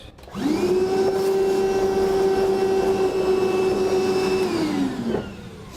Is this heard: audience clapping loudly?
no